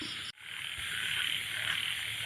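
A frog caught while fishing croaks in short low bursts against a bright, hissing outdoor background. A brief dropout comes near the start, then the croaking continues alone.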